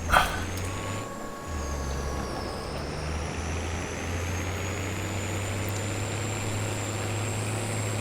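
Farming video game tractor engine, a steady low droning hum with a brief hiss near the start and a faint high whine, continuing evenly throughout without speech.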